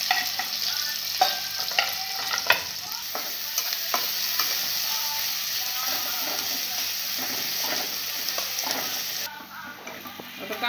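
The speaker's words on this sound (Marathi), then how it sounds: "त्याच्यात आपण कांदा टाकू, त्याला परतून घेऊ" Onions fry in oil in a pan after cumin seeds for a brinjal-potato bhaji, giving a steady, close sizzle broken by repeated scraping stirs of a spoon, with no talking.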